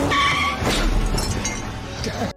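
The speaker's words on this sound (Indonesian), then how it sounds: "Mobil ini menggunakan mesin V8 dengan tenaga 197 horsepower di 5000 rpm." A 1962 Chevrolet Corvette C1 Roadster with a 197-horsepower V8 drives loudly, with engine roar and tire noise under a voice talking over it, then cuts off abruptly.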